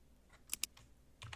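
Someone types an email on a computer keyboard in short bursts: two crisp, close key strikes stand out among softer taps, with a quiet room and low hum around them.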